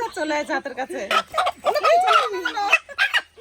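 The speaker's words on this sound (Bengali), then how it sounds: "দেশি মোরগ" A desi rooster clucking in short, nearby bursts, mixed in with a person talking over it.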